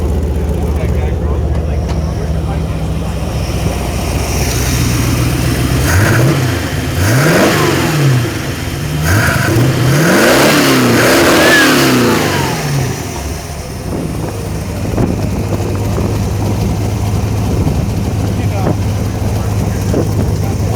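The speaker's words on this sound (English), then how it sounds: "can you rev it a couple times?" A 1933 Speedstar Roadster's engine idles close by, then revs up sharply several times in quick bursts before settling back, with people talking nearby.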